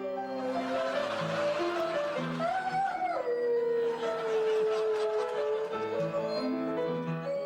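A Doberman howls along to Für Elise played on piano, its long wavering howl rising and falling steadily over the melody for several seconds, close and fairly loud.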